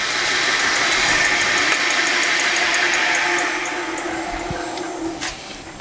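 A pump with a flywheel runs steadily close by, a dense mechanical drone with a shaking rattle, easing slightly in level toward the end with a brief knock near the close.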